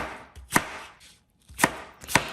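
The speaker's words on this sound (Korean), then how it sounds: "오이 300g을 준비해 주시고요. 동글동글 썰어 주세요. 사과 한 개도 썰고요." Knife chopping through cucumber and apple into rounds on a cutting board, three sharp crisp cuts spaced apart, close and clear with quiet pauses between.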